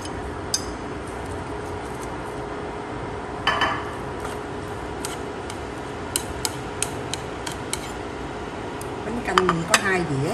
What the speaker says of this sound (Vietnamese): để con sú vô mình xào